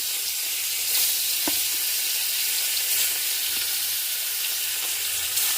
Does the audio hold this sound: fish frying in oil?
yes